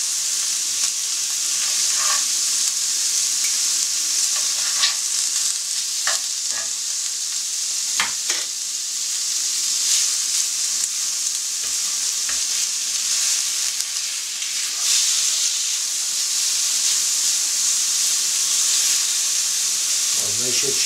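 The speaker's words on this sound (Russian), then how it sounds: "На большом огне я обжариваю, как видите." Steady, bright sizzle of meat frying hard over high heat in a pan with a little oil, with occasional scrapes and stirs, and faint talk beneath the hiss.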